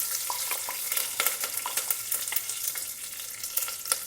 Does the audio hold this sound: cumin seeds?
yes